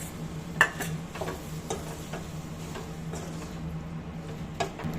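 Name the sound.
marinated prawns frying with tomato and onion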